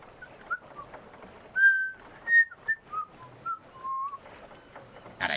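A person whistles a short, wavering tune in a series of brief notes, some held and bending, over a quiet background of game sounds, ending with a short burst of noise.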